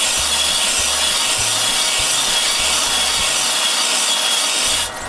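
A band sander smoothing the sides of a wooden tool blank for a beading tool, a loud continuous abrasive hiss with steady rubbing, heard alone and close.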